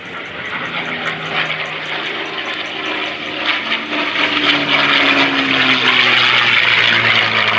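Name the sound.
P-51 Mustang airplane making a high-speed airshow pass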